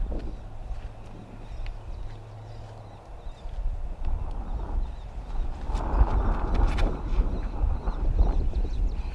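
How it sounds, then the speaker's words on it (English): Steady wind buffets across an outdoor disc golf course at about ten miles an hour, a broad low rumble that rises and gusts louder toward the end, with faint bird calls in the background. "There is a 10-mile-an-hour wind coming almost directly in the players' faces."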